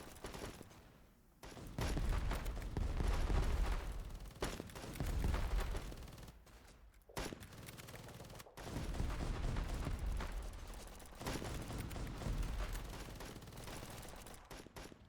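Gunfire from shooting at enemies in the indie war game The Patriotic War: repeated loud bursts of rapid shots and volleys fill most of the stretch, broken by brief pauses between strings of fire.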